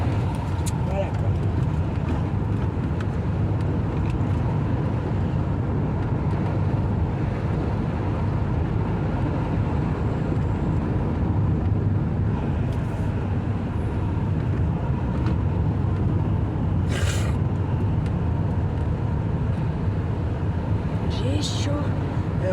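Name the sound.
car driving on a small road, heard from inside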